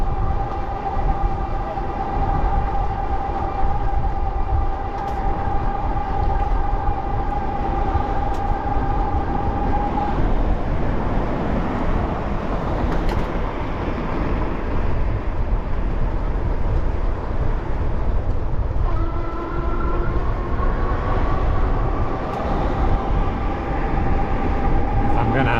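A train rumbles past alongside a rail trail, loud and steady for the whole stretch, with a long horn-like tone early on and a second sustained tone near the end.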